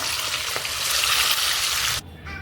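Fish frying in a pan, a loud continuous hissing sizzle heard up close that suddenly drops to a quieter hiss near the end, with no voices.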